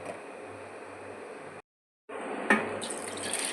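Tap water runs into a kitchen sink as lentils are rinsed for sambar, a steady close splashing stream that briefly cuts out, then resumes with a small clatter.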